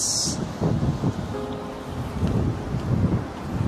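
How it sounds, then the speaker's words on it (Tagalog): Gusty wind buffets an outdoor microphone in a rural Philippine setting, a continuous low rumble that swells and dips throughout with no clear speech over it. "Pasensya na po, medyo mahangin. Baka hindi siya magandang pakinggan sa audio."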